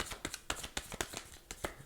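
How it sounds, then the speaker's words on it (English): Tarot cards are riffled and shuffled by hand in quick, sharp bursts of papery snaps, about eight crisp clicks in under two seconds, close and fairly quiet with no talking. "Let's continue to shuffle."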